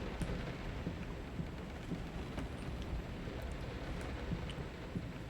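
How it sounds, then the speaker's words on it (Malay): Steady rain and low rolling thunder in the horror video game Layer of Fear, a continuous stormy wash with scattered drop ticks, evenly loud throughout with no talking. "Hujan guys."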